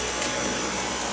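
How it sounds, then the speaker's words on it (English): Dyson V8 cordless vacuum cleaner runs in a steady, close high-pitched whine with airy suction noise, unbroken and alone for a brief moment. "Best vacuum, hands down."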